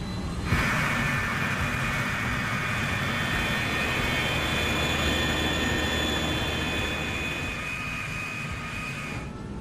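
Airliner taxiing toward the runway, a steady jet engine whine and low rumble held at an even level throughout, with faint high tonal hums riding on top and no voices.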